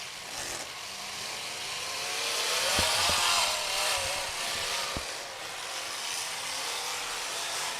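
A demolition derby car running a 377 engine roars steadily at an arena event, the revs swelling in the middle before settling, with a couple of sharp knocks.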